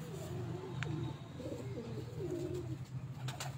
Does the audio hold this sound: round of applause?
no